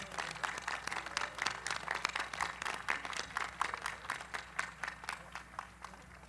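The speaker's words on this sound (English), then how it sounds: "Let's give them a round of applause and thank them." Audience applause at the Glendale Community College commencement ceremony, a fairly sparse crowd clapping in quick, uneven bursts, moderately near and without talk over it.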